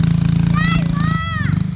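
Small motorbike engine running close by, a steady droning exhaust with a low rumbling pulse throughout, while excited voices call out over it.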